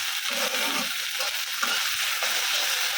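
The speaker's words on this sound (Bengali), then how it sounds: "আর এই পাশে ভেন্ডি ভাজি করতেছি" Okra frying in a pan, a dense, even hiss of hot oil that runs steadily throughout, with a few faint stirring knocks underneath.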